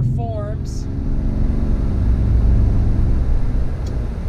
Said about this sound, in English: Let's get a acceleration with this diesel motor just to see how it performs.